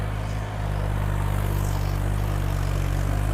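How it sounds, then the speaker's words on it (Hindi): Massey Ferguson 245 tractor engine labouring under heavy load while pulling a fully loaded trailer across unsown, uneven farm ground, a loud steady low-pitched diesel drone with constant rumble and no voices. "245 ट्रैक्टर आ रहा है, भर्ती से फुल भरा हुआ, एकदम अड़ाव है"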